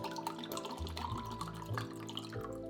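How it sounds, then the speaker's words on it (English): Water is poured into a large drinking glass at home during a morning routine, a steady trickle with small splashes and rising tone over a few seconds, close and fairly quiet, no talk. "I pour and then drink a large glass of water"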